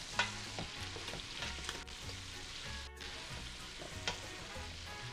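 Bacon sizzles in a large pot, rendering its fat. An even, close frying hiss carries on throughout, with a few soft scraping and tapping sounds mixed in.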